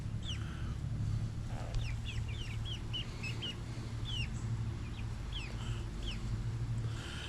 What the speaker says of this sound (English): And one of them is a rooster.